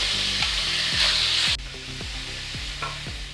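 Chicken tipped into a kadhai with a spoonful of hot oil, crackling and hissing loudly with rhythmic spatula scrapes and knocks against the pan, close up, the sizzle easing slightly partway through.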